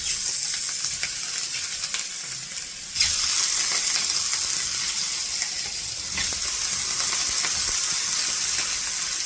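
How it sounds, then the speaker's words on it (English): Sausages sizzle and spit steadily on a hot grill tray, a loud continuous frying crackle that rises sharply partway through as more sausages go in. "I'm gonna put my sausages in right now, okay? To the grill."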